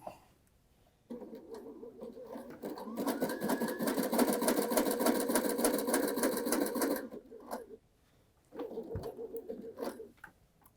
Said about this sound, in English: I'm just going to do a little stitching.